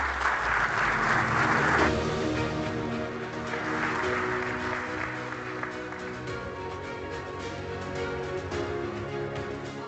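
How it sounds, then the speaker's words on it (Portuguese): An audience at a corporate safety event applauds in a sustained, dense burst of clapping that swells early and then continues steadily at a slightly lower level throughout. "peço-vos o aplauso para a Fernanda Bonifácio"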